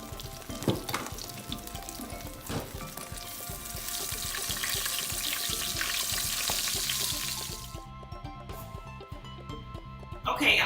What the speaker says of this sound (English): so the fish is fried, but not cooked all the way through